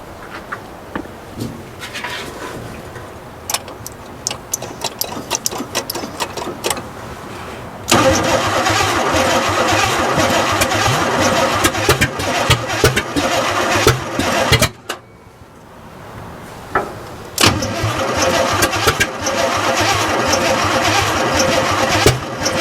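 An abandoned 1967 GMC truck engine cranks with rapid starter clicks, then catches and runs roughly, its loud mid-pitched rumble surging, briefly dropping out near the middle and firing back up close by.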